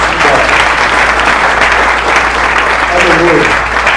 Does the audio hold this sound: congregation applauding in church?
yes